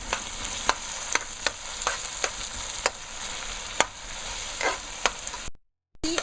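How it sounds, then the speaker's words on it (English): Tomato paste and salty seasoning frying in a pan for beans and rice, a steady close sizzle broken by regular scraping strokes of a utensil, ending in a brief silence. "So we gotta fry, let this fry down a little."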